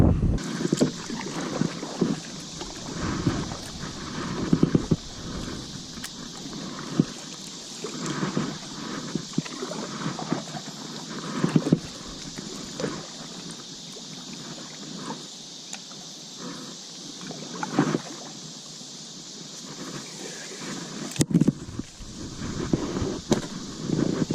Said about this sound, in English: I better turn the camera off and start paddling